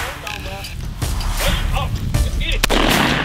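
Shotgun shots ring out during a quail hunt in the outdoors, a few sharp reports among wind and movement noise, with people talking nearby.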